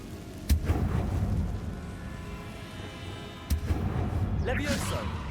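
Bombarda and Confringo spells exploding in the video game Hogwarts Legacy, two sudden booming blasts about three seconds apart rising out of a steady rumbling background, with a spoken voice between them.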